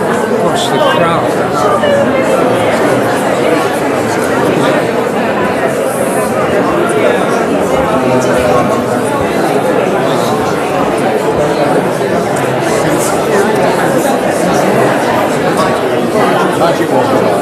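Dense crowd chatter fills a room during a shiva, many overlapping voices talking at once in a steady, loud, close hubbub with no single voice standing out.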